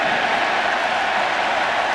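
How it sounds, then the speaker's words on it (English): Baseball stadium crowd at an American League Championship Series game applauding a pitcher, a dense steady wash of clapping and cheering from a large crowd, loud and continuous with no distinct individual claps. "And the crowd lets Albuquerque hear their appreciation."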